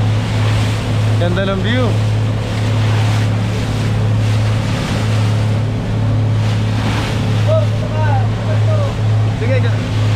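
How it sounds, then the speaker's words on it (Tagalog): A motorboat off Claver, Surigao del Norte, drones steadily over a rough sea with large waves and wind buffeting the microphone, while a few people talk briefly. "Ang lalaki ng alon."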